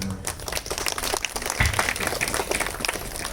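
Brief applause from a crowd at a Catholic church festival for the flag-lowering Mass, soft, diffuse clapping throughout with faint voices mixed in.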